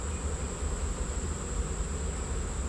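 Honeybees buzzing around a beehive box, a steady continuous hum of many insects with a fine whine on top, unbroken and moderately faint throughout, with no voices.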